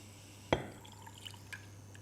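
Water splashes into a pan of sugar on a hob for rosewater syrup: one sharp pour-splash up close, then a few faint drips and clinks in a quiet kitchen.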